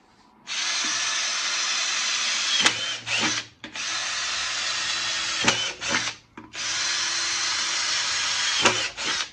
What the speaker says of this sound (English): Drill some holes in it.